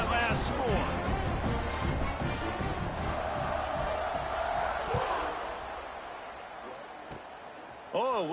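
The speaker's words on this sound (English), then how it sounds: "this crowd is buzzing after that last score" Simulated stadium crowd in an NCAA football video game roars and buzzes after a score, loud at first and then settling, with talk running over it and sharp whistle-like chirps near the end.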